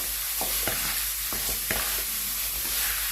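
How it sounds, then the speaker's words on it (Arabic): A spoon stirs almond sweet ingredients in a bowl, soft repeated scraping strokes at an irregular rhythm over a steady hiss, with no talking. "غادي نخلطوا المقادير مع بعضياتهم"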